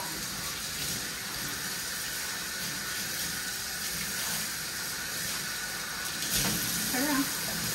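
A recirculating bathing system for an Afghan Hound runs with a steady close gush of water throughout, with a person speaking faintly over it.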